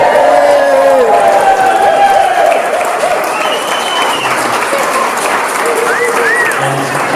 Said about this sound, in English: a huge round of applause for Mum and Dad